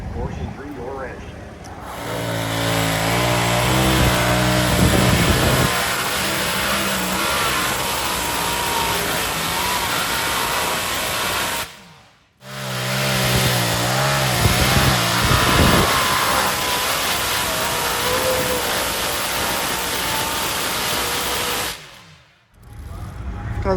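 A twin-engine modified pulling tractor, based on a Chevy bottom end, roars at full throttle in a loud sustained blare, cutting out briefly twice before surging back to a howling drone.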